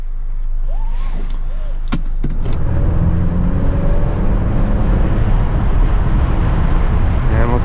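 A 2018 Honda Accord Sport 2.0T with a manual gearbox drives along, its steady engine and road noise continuous and fairly loud after a few brief clicks and thumps at the start.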